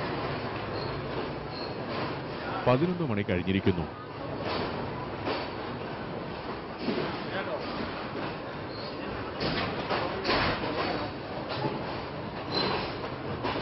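Interior of a moving passenger train in Yangon, Myanmar, a steady rumbling roll with rattling carriages and brief wheel squeals, heard under someone speaking throughout.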